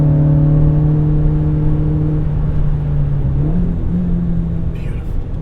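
A 1988 BMW E30 M3 engine runs at a steady, loud idle-to-mid hum, then briefly rises and dips in pitch as it is revved, with a faint voice near the end.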